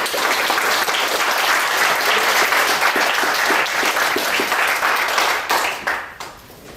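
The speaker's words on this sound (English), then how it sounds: "let's give Lyndon a round of applause" Audience applause for speaker Lyndon Estes after a talk on sound data and sustainable food policy: dense, sustained clapping from a large crowd, steady and loud for several seconds before tapering off toward the end.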